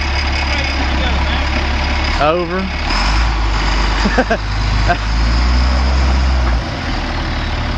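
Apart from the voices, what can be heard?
stuck truck engine revving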